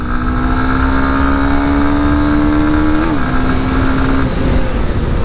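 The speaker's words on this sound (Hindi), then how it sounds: "चलो ये डाल दिया हमने 3rd गियर पे, फुल थ्रॉटल।" A 2024 Honda Hornet motorcycle accelerates at full throttle in third gear, its engine droning loud and close with a steady, slowly rising note and a brief hitch midway.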